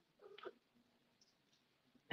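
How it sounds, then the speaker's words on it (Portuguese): A small kitten lets out a brief, faint meow near the start of the clip at an Indigenous women's encampment. Quiet room tone follows, and a short louder knock or rustle comes at the end. "o gatinho apareceu aqui."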